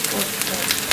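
Chopped onion dropped into a hot pan while cooking with green peas, turmeric and potato, giving a loud, continuous crackling sizzle with brief pops.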